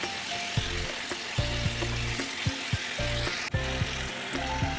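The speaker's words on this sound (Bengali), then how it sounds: "এরই একই সাথে ভেজে নেবো 2টো কুচিয়ে রাখা টমেটো। এটাও কিন্তু ভাজতে থাকবো।" Chicken fries with two chopped tomatoes in a pan, a loud close sizzle overlaid by rhythmic metal spatula scraping and clanks, some with a ringing tonal edge, recurring every half second or so.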